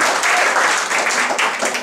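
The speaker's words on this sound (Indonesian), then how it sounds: "Tepuk tangannya masih halus, tepuk tangan lebih dahsyat lagi" Church congregation applauding during a sermon, dense steady clapping from many hands filling the room at moderate loudness, with no voices over it.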